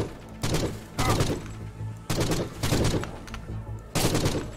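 Gunfire in the shooter game Forgive Me Father, with four or five loud bursts of shots spaced about a second apart, each ringing briefly before the next.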